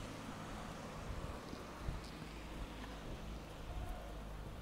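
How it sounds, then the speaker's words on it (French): Freezing rain falls outdoors in a steady broadband hiss with scattered drop impacts and some wind noise, continuous and fairly close. "Sous la pluie glaçante."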